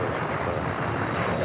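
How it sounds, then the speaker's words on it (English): An Air Tahiti Nui Dreamliner jet arriving at LAX gives off a steady, broad roar of engine noise for a moment, loud and constant with no break. "The second Air Tahiti Nui Dreamliner coming in from Papa Ete,"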